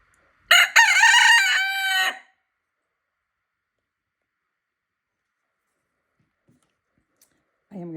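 A rooster crows once, loud and close, a single drawn-out call lasting under two seconds in an indoor painting studio, followed by near silence and the brief start of another sound at the end.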